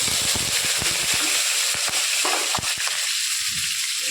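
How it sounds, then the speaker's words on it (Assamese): Onion, chili, spice paste and five-spice seeds hitting hot oil in a pan, a loud steady sizzle with rapid crackling pops at first that ease into a continuous hiss. "তেল গৰম হোৱাৰ লগে লগে মই পিঁয়াজ, জলকীয়া, বটা, পাঁচফোৰণ দিলোঁ।"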